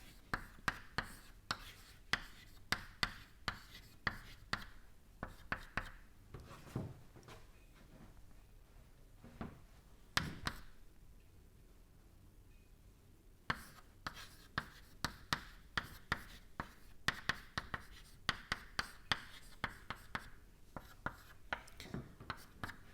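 Chalk or marker strokes on a lecture-hall board, a long run of sharp taps and scratchy strokes in uneven bursts, with a brief pause midway and faint room noise underneath.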